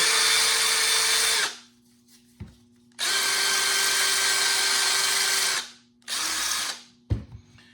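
A loud power drill spins a wire brush against a surface in three bursts, a long one, then a longer one, then a short one, with quiet pauses between.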